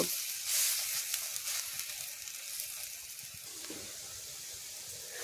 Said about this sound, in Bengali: এবার এখানে বড়ার আকারে করে এইগুলোকে আস্তে আস্তে আমি তেলে বসিয়ে দেব